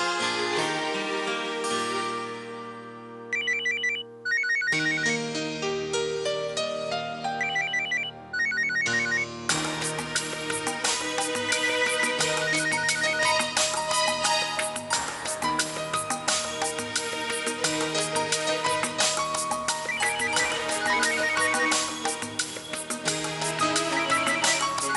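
A phone rings with a bright melodic ringtone that repeats continuously for a long stretch and goes unanswered, with no voices over it.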